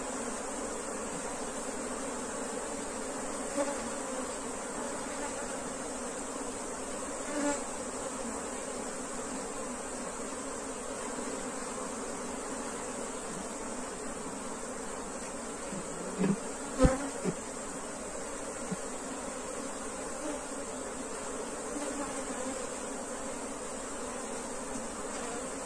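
A swarm of bees hums around a hive box, a dense continuous buzz that stays steady and close throughout, with a few faint knocks and handling noises partway through.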